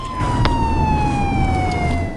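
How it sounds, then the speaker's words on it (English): Police sirens wailing nearby on a city street, a loud steady tone sliding slowly downward over constant traffic rumble, with no pause throughout. "hear police sirens"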